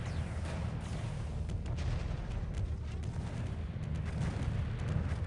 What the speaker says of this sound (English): Those are not casual cannons, those are artillery cannons.